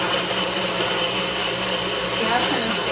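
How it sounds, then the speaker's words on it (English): A Nutribullet blender runs continuously, a steady loud motor whir with a broad buzzing hiss that holds even throughout, with no breaks. "now what you do with this blender is you literally push down"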